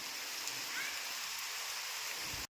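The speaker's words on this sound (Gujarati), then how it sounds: "તો મસ્ત વરસાદ પડે છે" A soft, steady patter of rain falls for a couple of seconds, fairly faint and even, before cutting off abruptly.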